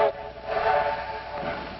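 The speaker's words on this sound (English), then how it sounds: "Well, that must be our train." An arriving train from the early 1950s sounds a steady, sustained whistle at moderate volume, holding one tone for more than a second over a low rumble, with no talking.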